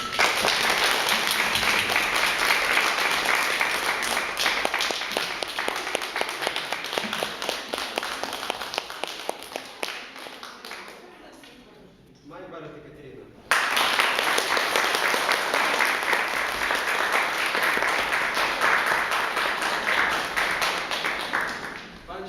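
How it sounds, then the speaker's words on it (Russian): Audience clapping for a finalist at the final of a poetry contest, a long, dense round of applause that thins and dies out around twelve seconds, then a second full burst that runs to the end. "Итак, Кривохать Курьянов, ваши аплодисменты"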